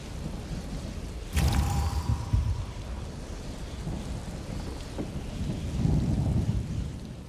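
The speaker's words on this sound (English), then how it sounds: "You get the lightning! Now you get the lightning!" A loud lightning crack and a rolling rumble of thunder hit during a thunderstorm in the video game Elder Scrolls Online, then fade into steady rain hiss with more low rumbles after.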